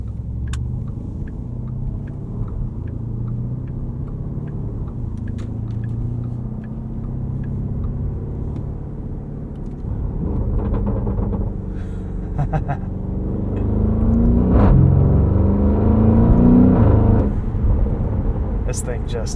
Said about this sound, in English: This thing just snarls away like you wouldn't believe.